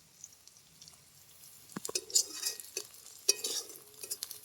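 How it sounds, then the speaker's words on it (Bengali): Chopped curry leaves being stirred and lightly fried in a pan: soft scraping strokes of a spoon with faint sizzling, a few distinct stirs, close and quiet, with no talking. "এটাকে একটু নেড়ে হালকা ভেজে নেব"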